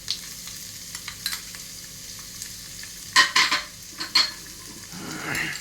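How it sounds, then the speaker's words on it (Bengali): Chopped ginger fries in a pan for Bengali basanti pulao, a light sizzle broken by metal spoon clinks and scrapes against the pan, a louder cluster of clatters midway, then a swelling hiss at the end; no voices. "একটু হালকা করে ভেজে নিতে হবে।"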